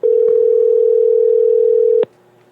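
A steady electronic telephone ringback tone holds for about two seconds, then cuts off abruptly, leaving a faint low hum behind.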